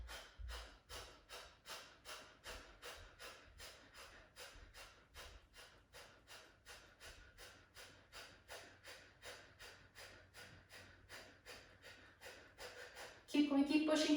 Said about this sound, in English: you're going to keep exhaling out by pumping your belly in